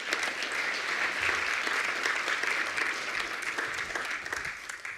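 At a university innovation hub launch, an audience breaks into steady applause as a speaker is welcomed to the stage, with dense clapping sustained for the whole stretch at an even level.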